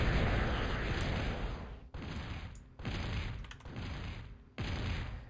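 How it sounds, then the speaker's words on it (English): Leveler units fire heavy shots in a real-time strategy video game, with loud booming blasts in several separate bursts that roll over one another and then drop away. "And here come the leveler shots."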